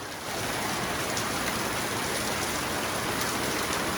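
A heavy rain downpour on a house in the Philippines, a dense, loud, unbroken hiss of rain drumming on surfaces, steady from start to finish with no voices.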